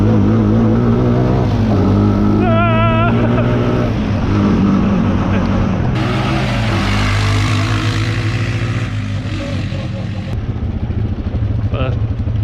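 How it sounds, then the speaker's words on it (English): A Polaris Sportsman 450 and a Honda Rancher 420 ATV drag race, their engines droning loud and close in a sustained, revving roar, with people talking over the engine noise. "we're about to drag race"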